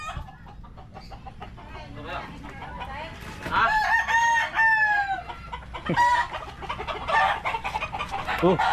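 Native Tagalog chickens cluck and a rooster crows loudly nearby on a farm, with overlapping calls from several birds and some voices in the background.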